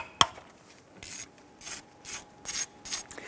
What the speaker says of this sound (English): Using a 10 millimeter socket extension and ratchet, you want to go ahead and loosen and remove these bolts holding these lines to the air compressor.